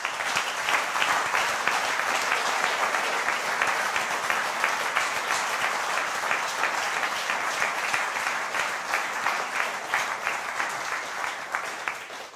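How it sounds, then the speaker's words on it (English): A conference audience at a frontend event in Zurich applauds steadily for about twelve seconds, a dense, even wash of many hands clapping that fades slightly at the end. "I think there's a really big applause for them."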